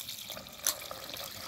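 Water is poured into a pot holding tamarind pulp, a faint, soft liquid trickle with one brief splash, close by and without talking.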